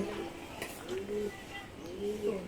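Low, rolling pigeon coos sound twice in quick succession, close by, over faint background noise, at a village home with goats and poultry.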